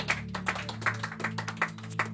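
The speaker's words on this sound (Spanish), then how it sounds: "Dale un fuerte aplauso para el poder de la sangre." Rhythmic clapping from a church congregation, sharp claps landing in a steady beat over a sustained low musical drone, moderately loud and fairly close.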